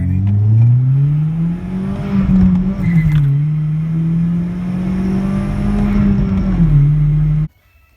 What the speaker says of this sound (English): now the turbo just flutters